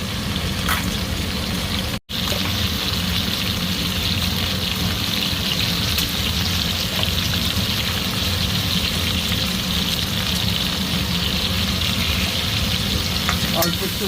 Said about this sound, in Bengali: অল্প একটু লবণ আর হলুদ দিয়ে দিলাম ভাজাতে।